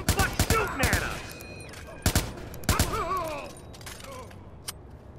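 Rapid gunfire bursts ring out in the Watch Dogs video game, several sharp volleys spread across the scene with short gaps, mixed with shouted voices and game sounds.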